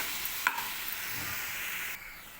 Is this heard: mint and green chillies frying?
yes